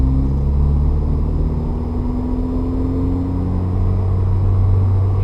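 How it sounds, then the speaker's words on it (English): A manual-transmission car pulls away from a stop with a smooth clutch release, the engine's low rumble rising in a steady climbing drone, heard from inside the cabin with no talking. "I'm gonna do my start from a stop and get the car moving"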